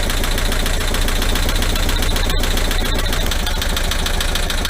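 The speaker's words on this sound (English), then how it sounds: "we've made the engine run, still needs setting up" An air-cooled VW 1.6 engine, freshly started and not yet set up, runs loud and close with a rapid, rough mechanical chatter that stays steady and unbroken throughout.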